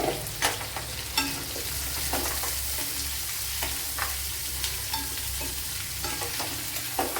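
Sliced large onion sizzles and crackles in hot oil in a pan while being stirred for a squid stir-fry, steady frying hiss with intermittent scraping stirs, close and fairly loud, no talking.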